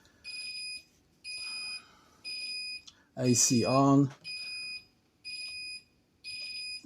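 A panel emits repeated high-pitched electronic beeps in a regular on-off rhythm, interrupted briefly by a person speaking nearby.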